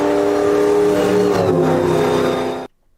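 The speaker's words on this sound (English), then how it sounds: "It's probably these straight cut gears that you're hearing." Turbocharged V8 car with a straight-cut gear transmission, giving a loud, sustained engine roar layered with a tonal gear whine that rises slightly, then cuts off abruptly near the end.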